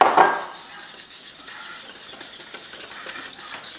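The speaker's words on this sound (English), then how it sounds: "We're going to let that go ahead and keep stirring." Creamed spinach made with heavy cream, Parmesan and cream cheese is stirred in a pan, with a clatter of utensil against metal at the start, then soft repeated scraping and light clinks, close and moderately quiet.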